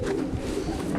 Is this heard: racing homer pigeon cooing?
yes